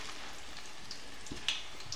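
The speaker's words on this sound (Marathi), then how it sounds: "तर कढईत तेल तापल्यानंतर याच्यामध्ये हे जे आपण सिलेंडरच्या आकाराचा जो नाश्ता बनवला होता तो कढईमध्ये टाकून घ्यायचा।" Spinach snacks shaped like cylinders sizzle in hot oil in a kadai, a steady soft crackle with scattered tiny pops, fairly faint and heard on its own.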